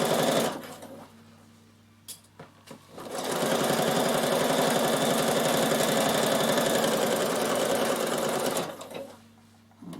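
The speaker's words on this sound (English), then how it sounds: "I'm just going to sew my side seam. So you can see the walking foot just feeds your top and bottom layer nice and evenly." A Bernina sewing machine fitted with a walking foot stitches a side seam through laminated cotton, running in one steady, fast, rhythmic hum for about six seconds, close and clear, with light handling noise before and after.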